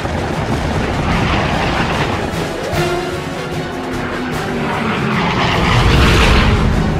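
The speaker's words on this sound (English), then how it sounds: "With a long burst, he sends a second plane spiraling to Earth." A World War II bomber gunner fires long bursts at an attacking fighter plane as aircraft engines drone loudly throughout, with rumbling booms and a steady, dense roar and no speech.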